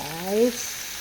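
Chopped mushrooms dropped into a pan with sautéed garlic for a Kerala mushroom thoran sizzle and fry, a steady hiss close by, with a voice briefly heard over it.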